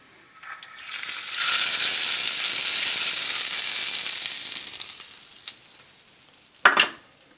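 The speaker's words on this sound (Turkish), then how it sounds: "Ve bu hazırladığım yoğurtlamamın üstüne döküyorum." Hot topping poured over a yogurt dish from the Muğla region, a steady sizzling hiss swelling for several seconds then fading, followed by a brief clatter.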